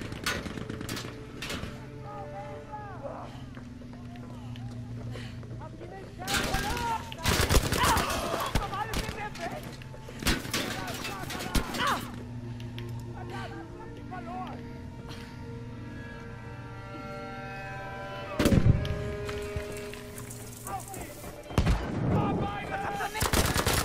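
Gunfire in Battlefield 5, with dense volleys and rapid bursts of shots cracking close and far over a steady battlefield rumble. A few louder bursts punch through and game voices can be heard.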